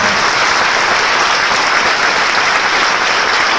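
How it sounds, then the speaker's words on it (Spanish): Audience applause filling a university lecture hall, a dense, steady clatter of many hands held at an even level throughout, with no voices rising above it. "Fuerte aplauso para Pedro"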